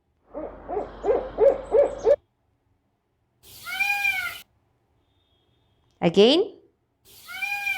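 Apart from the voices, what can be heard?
peacock call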